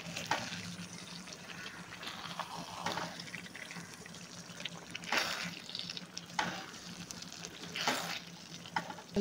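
Brinjal pieces are gently sautéed in a pan, a soft sizzle under intermittent scraping and stirring strokes, with several sharper clatters spaced a second or two apart, fairly quiet, with no talking.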